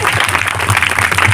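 Applause rises for a schoolgirl at a student event held during a religious discourse program, a dense and steady clapping from an audience that carries through the whole moment at close range.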